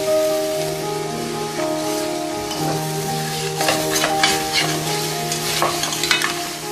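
Mutton pieces fry in their own rendered fat in a karahi for a traditional Pakistani karahi dish, a steady crackling sizzle with intermittent stirring scrapes and spatters, close and alone without talk.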